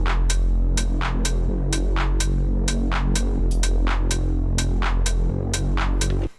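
Dark bass house synth loop transposed up one semitone, a loud, steady pulsing bass pad under a regular beat of sharp percussive hits, continuous throughout and cutting off at the end.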